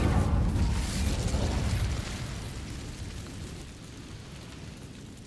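Incendio fire spell cast in Hogwarts Legacy, a loud roaring whoosh of flame that starts strong and slowly fades over several seconds, with no voices.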